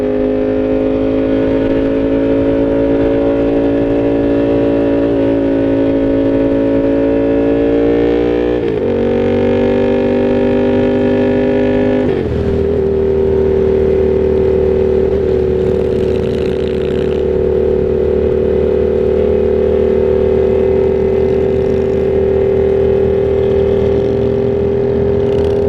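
Yamaha FZ-07 motorcycle fitted with a Danmoto XG-1 full exhaust system, riding alongside straight-piped bikes; a loud, steady engine drone that dips briefly as revs shift and then settles into a constant cruising note.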